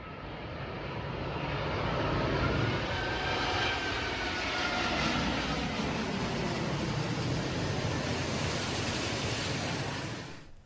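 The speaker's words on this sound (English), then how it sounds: "Talking of planes, it's been a while since we've seen one of these." An airplane passes over near Sydenham Station in Sydney, a broad steady engine roar that swells and holds for several seconds before fading slightly, loud and alone without voices.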